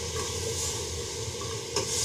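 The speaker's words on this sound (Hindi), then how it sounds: "इसको कैरेमल बनाएंगे, हिलाते जाएंगे इसको।" Sugar with a splash of water is stirred as it caramelizes in a pot on the stove, a continuous close sizzle and bubbling hiss with a brief scrape near the end and no talking.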